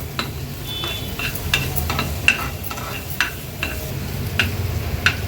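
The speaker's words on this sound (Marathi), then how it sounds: "आलं लसूण क्रश आणि मिरची आपण छान परतून घेतली आहे" Crushed ginger, garlic and green chilies sauté in a pan for chicken vada pav filling, with a soft steady sizzle and bright spatula scrapes and taps throughout.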